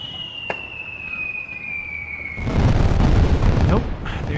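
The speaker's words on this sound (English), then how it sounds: "There is firework." A single firework bursts in the video game A Perfect Day, a loud booming explosion with crackling spread that follows a long whistling rise, over background noise and faint talk.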